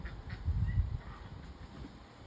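Several male ducks quack in a low, rough burst, loudest near the start and then tapering into scattered fainter calls close by.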